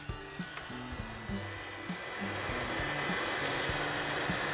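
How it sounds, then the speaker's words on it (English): A heat gun warming the back glass of a Samsung Galaxy Note9, a steady airy blower whine with a low humming motor tone, running continuously at moderate level while faint clicks and bumps sound underneath. "I do have a heat gun."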